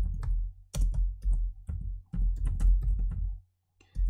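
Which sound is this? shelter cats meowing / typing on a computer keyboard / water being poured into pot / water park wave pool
typing on a computer keyboard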